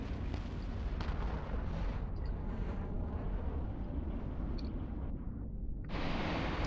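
Heavy missiles launching in EVE Online, a deep continuous rumbling roar of weapons fire that holds steady and then swells with a sharper burst of noise near the end.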